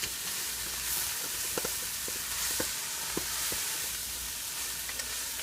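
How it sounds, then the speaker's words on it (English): Vegetables and walnuts sauté in a pan with a steady bright sizzle, broken by a few soft stirring scrapes and taps; close and moderately loud, with no talking. "Let these saute for about 8 to 10 minutes."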